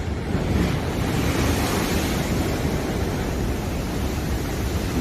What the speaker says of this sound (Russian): Вот это здесь волна.